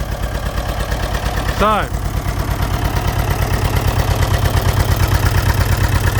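Fordson Major tractor engine idling with a newly fitted exhaust, a close, steady low chugging pulse running throughout, with a brief voice cutting in near the start.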